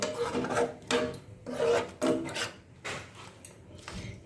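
Pineapple chutney stirred in a pan: rough scraping and rubbing strokes in uneven bursts, close by, with short pauses between and no speech.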